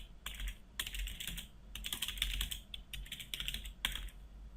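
Bursts of rapid clicking keystrokes on a computer keyboard, several quick runs separated by short pauses, close and fairly quiet, with no talking.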